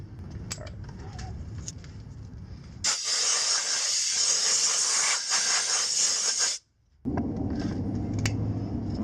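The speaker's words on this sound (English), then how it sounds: "So I'm just basically just gonna paint everything that I can see right now." A spray can hisses steadily as paint coats the rear brake caliper of a Mitsubishi Galant VR4, loud and close, in one long burst that stops briefly and then resumes.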